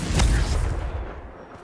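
In the Hogwarts Legacy video game, the Confringo explosive fire spell lands as a short, loud, deep boom that quickly fades into quiet.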